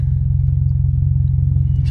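A 2012 Ford Fusion 2.5L with a Magnaflow 10416 exhaust, heard from inside the car while driving: a steady, deep, loud engine drone with no rasp.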